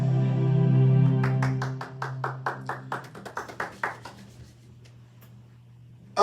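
A church congregation claps for Jesus after a prayer: a run of sharp, ragged hand claps, close and fairly loud, follows a sustained voice and tails off into quiet.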